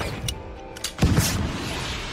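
A Kornet anti-tank missile strikes a pickup truck in a war film, a sudden heavy boom bursting out after a brief lead-in of scattered sounds, then a rumbling roar that lingers.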